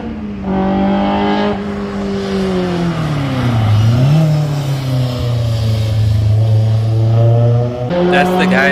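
A BMW M race car engine revs loudly and close at Zwartkops Raceway, its pitch dipping and climbing again as the driver works the throttle.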